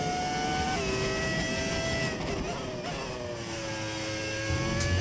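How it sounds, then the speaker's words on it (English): 2026 Formula 1 car engine in the F1 25 video game, a loud steady high-pitched whine with gear shifts and shifting pitch, sustained throughout. "I love the 2026 engine sound"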